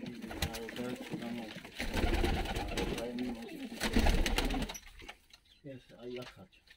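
Georgian tumbler pigeons, a Tasman cross, cooing in a loft, with repeated throaty rolling coos and wing shuffles heard close while people talk over them.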